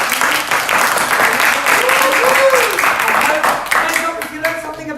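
A youth program audience claps for a speaker, a dense, lively round of applause filling the room, with voices audible underneath as it fades toward the end.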